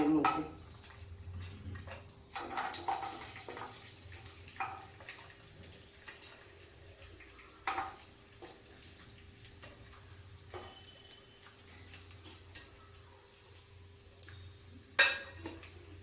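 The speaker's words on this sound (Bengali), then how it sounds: "কাজুগুলো একটু নেড়ে নিই" Cashews being stirred in white oil in a wok, with a soft scraping stir and light sizzle running steadily under faint background sounds and occasional clinks, with no speech.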